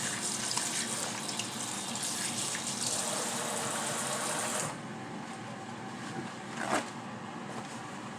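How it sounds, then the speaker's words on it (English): Tap water runs steadily into a kitchen sink during hand washing, a loud continuous broadband rush that drops to a quieter trickle about halfway through, with a brief splash near the end. "Wash my hands."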